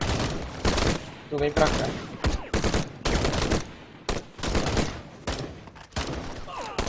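Repeated bursts of gunfire from the video game Call to Arms, sharp broadband shots fired in irregular volleys throughout, loud and close, with someone briefly speaking over the battle.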